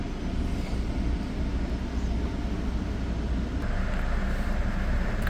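An Exo commuter train rides between Beaconsfield and Pine Beach stations in Montreal, a steady, loud rumble heard from inside the coach, with the noise swelling slightly near the end.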